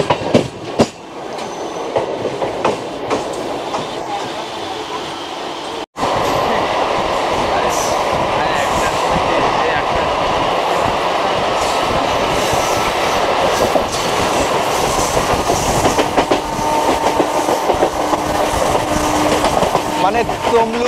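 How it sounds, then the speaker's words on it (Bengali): A Digha–Howrah local train races at close to 100 km/h on the approach to Tamluk junction, a loud, continuous rolling roar with rhythmic wheel clatter, a sudden jump in loudness, and a voice talking over it. "মানে তমলুকের আগে ঢোকার মুহূর্তে কিন্তু প্রচুর পরিমাণে জোরে চালাচ্ছে এইবার ট্রেন"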